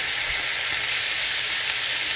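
Beef searing in a hot pan over high heat, a steady close sizzle of frying meat with a broad hiss and no voices.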